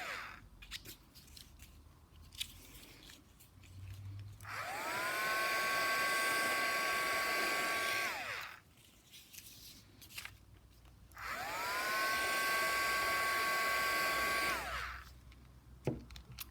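A heat gun runs in two long blasts, each a loud close whooshing roar that starts, holds for about four seconds and cuts off, separated by quieter pauses with small handling clicks.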